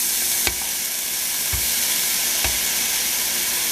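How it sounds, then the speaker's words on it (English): Meat sizzling loudly in a hot frying pan while cooking burrito filling, a dense, steady, close crackling hiss throughout, broken by a few soft knocks. "Okay, the pan is ready. There, that's a nice sizzle."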